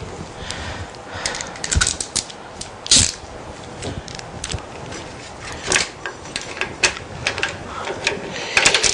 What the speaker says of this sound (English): Take that 9/16 inch socket, tighten it up a little bit more.